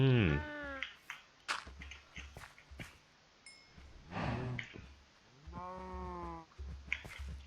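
Sheep in the Minecraft video game bleat twice, a wavering bleat at the start and another midway, separated by soft clicks and footstep-like taps.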